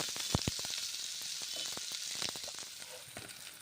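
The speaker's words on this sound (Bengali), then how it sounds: "মশলা কড়াইয়ের মধ্যে গরম তেলের মধ্যে ছেড়ে দিলাম মশলা এখন ভেজে নিচ্ছি" Ground spice paste fries in hot oil in a kadai for a paneer curry, a close, continuous sizzle broken by sharp pops and crackles.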